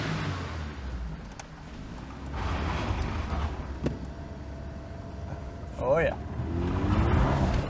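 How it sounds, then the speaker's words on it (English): A Merkur XR4Ti's turbocharged engine revs inside a tunnel, a booming, reverberant rumble that swells and falls, with a brief whistling burst near the end and a voice speaking over it. "Give it a rev into the tunnel, shall we?"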